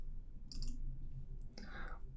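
A computer mouse gives quick, crisp clicks close by in a quiet room, two short bursts about a second apart with no voices.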